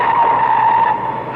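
A Fiat 124 stunt car skids with a loud, sustained tire squeal held at a steady pitch for over a second, close and dominant.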